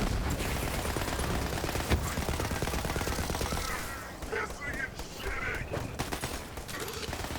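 Rapid SMG fire from Borderlands crackles in dense bursts amid loud in-game combat noise, then eases into scattered shots and game effects.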